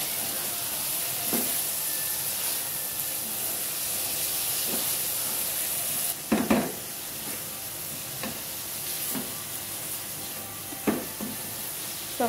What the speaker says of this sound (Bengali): এটা নেড়ে চেড়ে সুন্দর ভুনা ভুনা করে নেব।